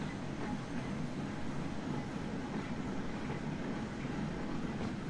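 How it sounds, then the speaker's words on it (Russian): Steam tram running on a narrow-gauge suburban railway in the Transport Fever video game, a steady rumbling rail noise that holds level throughout with no talk. "Причем с Щекино он связан линией пригородного парового трамвая, которая, кстати, пользуется определенной популярностью у местного населения."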